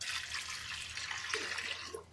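Water poured from a glass into a pressure cooker holding chana dal with pumpkin or bottle gourd, a steady close-up liquid rush lasting about two seconds with no talking.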